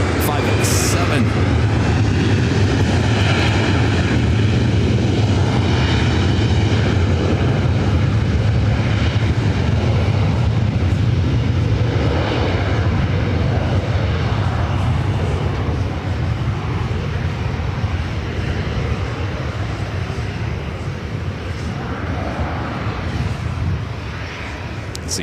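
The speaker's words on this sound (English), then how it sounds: "It's United 757-300 coming from Dulles" A United Airlines Boeing 757-300 arriving at LAX from Dulles on runway 24 right, its broad, steady jet roar holding loud for about 25 seconds and easing slightly near the end, with voices heard faintly over it.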